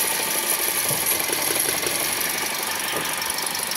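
A Toyota Vios Gen 3 with a dual VVT-i engine, checked for misfiring, runs steadily after starting. The loud, even engine drone has a faint rattling texture and continues without pause.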